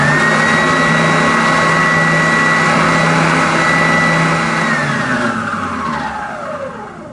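An oscillating spindle sander for woodworking hums loudly and steadily up close, then its motor winds down as it is switched off, the pitch sliding lower until it fades.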